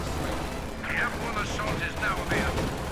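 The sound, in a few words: incendiary artillery barrage in a video game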